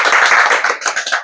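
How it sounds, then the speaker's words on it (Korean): A brief burst of audience clapping during a lecture orientation on developing transforming robots: dense, close handclaps lasting just over a second, with no talking over them. "박수! 박수!"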